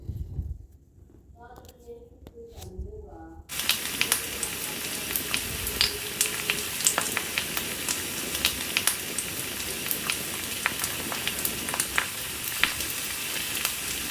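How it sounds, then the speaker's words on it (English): Soy sauce sizzling in a frying pan in a Toca Boca game scene: a brief voice at the start, then a sudden, steady crackling sizzle dotted with sharp pops and clicks. "now let me get a pan and put some soy sauce in it"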